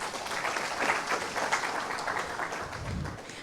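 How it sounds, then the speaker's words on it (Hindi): Hearty clapping from an audience at a panel discussion on moral values in sports, a steady broadband patter of many hands that holds evenly through the moment, with a brief low voice near the end. "शिव बाबा के लिए एक जोरदार हाथ ताली हो जाए"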